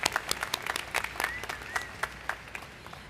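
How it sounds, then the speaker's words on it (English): Audience applause at a university commencement ceremony, a steady patter of many hands clapping at moderate distance, fairly quiet and even throughout. "Let's give them a round of applause."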